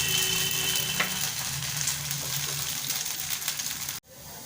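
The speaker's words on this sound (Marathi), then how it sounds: "आणि पेल्याच्या साहाय्याने आपण घावण टाकून घेऊया।" Rice flour ghavan batter frying on a hot pan over a high flame: a loud, steady close-up sizzle lasting several seconds that cuts off abruptly near the end, with no talking.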